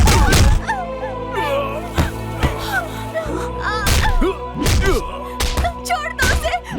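Punches and thuds land on a man being beaten in an Indian action film fight, several sharp loud impacts spaced irregularly among groans, shouts and dramatic music.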